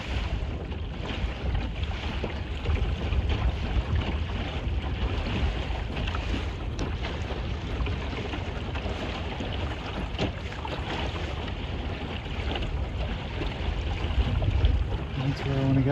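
A small sailboat under way in a pleasant breeze on calm water, with a continuous rushing wash of water along the hull and gusty wind buffeting the microphone throughout.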